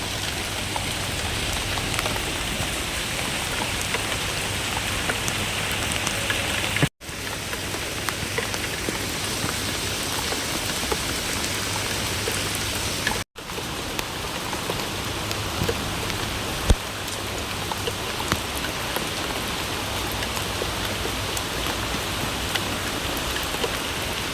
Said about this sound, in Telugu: నేను మీకు చూపిస్తాను అసలు ఎంత వర్షం పడుతుందో